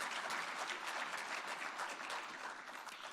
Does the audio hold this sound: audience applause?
yes